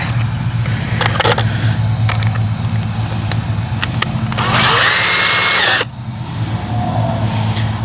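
A power drill with a stepped drill bit whirs loudly in a sustained burst after a few sharp clicks and clatters, then cuts off abruptly.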